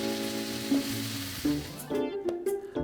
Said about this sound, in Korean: 지글지글 고기 구워지는 소리만 들어도 행복하단